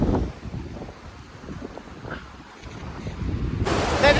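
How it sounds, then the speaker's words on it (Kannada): Gusty wind buffets the microphone on a bridge over the Bhima River near Yadgir: a low, rumbling roar that swells and dips, with faint distant sounds behind it. "ತಣ್ಣ ಗಾಳಿ ಬರ್ತದ್ರಿ ಇಲ್ಲಿಂದ"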